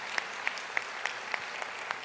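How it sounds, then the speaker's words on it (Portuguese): Sparse, regular applause during a church service, claps spaced about every quarter second, like a single pair of hands or a few people clapping steadily, with faint background hiss. "receber uma linda salva de palmas agora"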